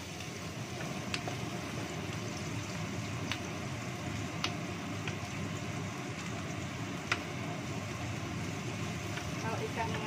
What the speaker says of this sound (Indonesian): maaf agak berisik ya. Buka mesin penyedot minyak.